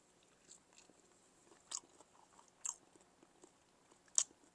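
Someone bites into sweet glazed Chinese BBQ roast pork with a crusted outside, giving a few quiet, separate crunchy bites and soft chewing sounds with short pauses between them.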